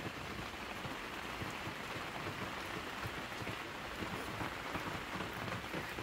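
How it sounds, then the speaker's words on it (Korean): Heavy rain falls in a steady, dense hiss with fine pattering throughout, constant and fairly faint, with no voices. "비가 제법 많이 오고요."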